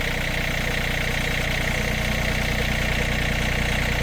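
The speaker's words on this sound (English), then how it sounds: "So I am gonna see about lifting it up with the tractor." A John Deere tractor engine runs at a steady, loud idle while being used to lift a heavy yard-sale statue, a continuous low rumble with even vibration throughout.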